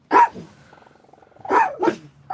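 A dog barks close and loud, one sharp bark followed after a pause by two more quick barks, with low growling between.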